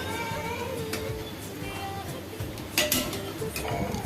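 Rice fritters frying in a pan are turned over with a utensil, a clear clink and scrape of metal over a continuous low sizzle.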